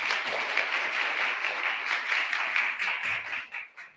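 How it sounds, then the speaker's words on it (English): Audience applause fills a hall at a state government Inauguration Day 2022 education event: steady, dense clapping that holds, then thins and fades out near the end. "let's give him a round of applause to thank him for participating"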